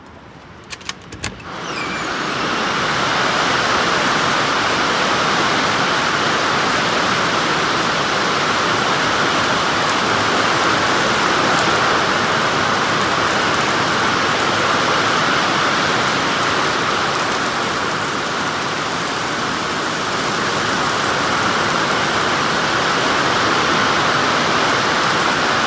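Heavy storm rain pours down outside windows of a leaking building, a loud, steady wash of noise that holds unbroken for the whole stretch after a brief opening clatter.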